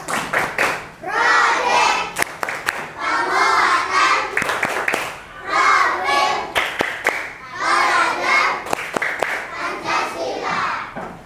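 Young schoolchildren chant in unison while clapping hands in a fixed rhythmic pattern during an elementary class, with loud repeated phrases and sharp claps alternating.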